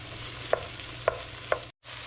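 A spoon stirs peppers softening in a hot pan for a chicken spaghetti stir fry, with low sizzle and three sharp metallic knocks against the pan, then a brief silence and a low thump.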